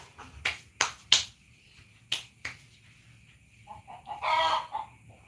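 A few sharp, isolated clucks from a chicken at night in Sorong, Papua ring out against a quiet background, followed by a short burst of louder squawking near the end.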